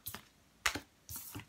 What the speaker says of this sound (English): I'm shuffling while I'm speaking to you